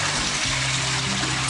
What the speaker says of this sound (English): And now it's flushing.